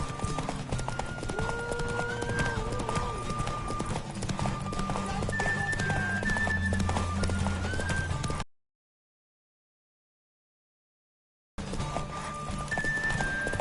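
Horse in The Witcher 3 video game: steady clip-clopping hooves with snorts and a neigh, close and continuous under in-game music tones, then a short silent gap before the hoofbeats resume.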